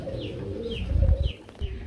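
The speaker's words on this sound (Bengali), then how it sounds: "মনের মতো খুবই সুন্দর একজন ফিল্ডব্যাক কবুতর রয়েছে" Pigeons coo at a Bangladeshi pigeon farm stocked with breeding pairs for wholesale sale: soft repeated throaty coos, fairly close, over a low murmuring background of other birds.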